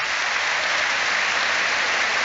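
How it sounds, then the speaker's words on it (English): Massive stadium applause rolls around Old Trafford as an injured player is stretchered off during a Premier League match, a steady, dense wash of clapping from a huge distant crowd. "he's getting massive applause around Old Trafford as he's stretchered off."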